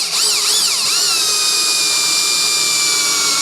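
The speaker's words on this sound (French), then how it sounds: "donc ça va percer tout seul." A power drill with a sharp bit bores a pilot hole into copper pipe, its loud steady whine wavering in pitch at first, then holding a high sustained tone throughout.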